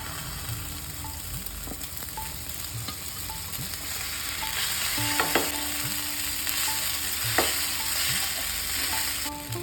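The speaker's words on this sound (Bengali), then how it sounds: "এরপর পাস্তাটা সেদ্ধ করে জল ঝরিয়ে রেখেছি, এটা দিয়ে দেবো এর মধ্যে" Drained boiled pasta is tossed into a frying red sauce in a pan, with a steady sizzle and a few scraping stirs, close up and with no talking.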